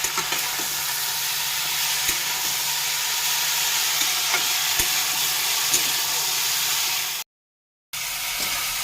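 Green chillies frying with bitter greens in a pan make a steady, close sizzle and hiss with occasional faint clicks and a brief silent break near the end; no talking.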